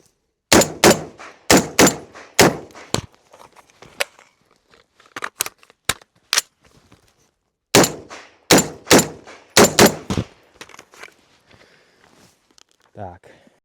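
Fast bursts of loud, sharp rifle shots from a Grand Power R308 in .308 Win during an El Presidente drill, two quick groups of close reports separated by a pause, with quieter clicks and handling noise between them.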